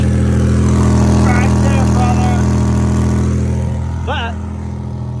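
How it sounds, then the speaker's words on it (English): A 1995 Toyota 4Runner engine with a major exhaust leak idles loudly and steadily up close, a deep droning hum with a raspy edge, while someone speaks briefly over it. "I do have a major exhaust leak"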